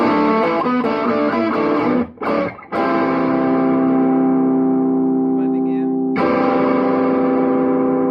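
Thick, sustained electric guitar chords with a warm humbucker tone from a DiPinto Galaxie Tres Royale through a Fender Blues Jr amp ring out, briefly cut twice, then swell again with a bright fresh strum near the end.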